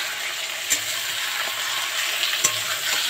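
Marinated chicken and onions sizzle steadily in a frying pan while a spatula stirs them, with occasional sharp clinks against the pan over the constant fry hiss.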